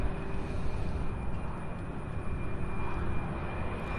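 An American Airlines jet arriving from Dallas-Fort Worth at Louisville International Airport, a six-year-old aircraft, making a steady broadband engine roar with a faint tonal whine, close and continuous.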